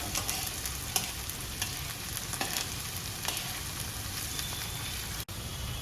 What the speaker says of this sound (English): we're gonna saute them until it's a slightly golden brown